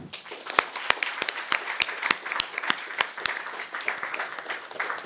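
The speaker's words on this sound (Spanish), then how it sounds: "a quien les pido un fuerte aplauso" A law faculty audience claps for a visiting lecturer, with distinct individual claps standing out over a moderate spread of applause that thins toward the end.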